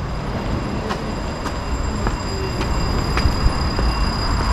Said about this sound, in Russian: Пойдемте, встретим, проводим поезд и поеду я обратно.